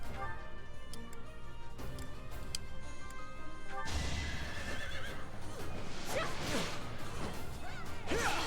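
A horse in the Fire Emblem video game neighs after being stabbed, a strained whinny with wavering cries over game sounds, following steady ticking and a crash-like change midway.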